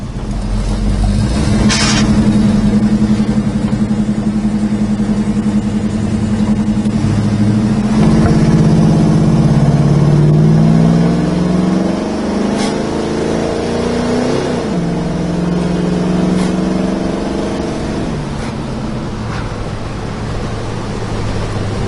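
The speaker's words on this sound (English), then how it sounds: "Car shifts nice, it drives well" Heavy V8 engine of a 1968 Chevrolet Chevelle Malibu pulls hard, revs climb and drop as gears change, then settle into a steady cruising drone with road noise.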